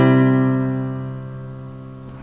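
A sustained dominant seventh chord resolves, with the leading tone kept in an inner voice. It rings out as one rich held chord that slowly fades over about two seconds, with no talking.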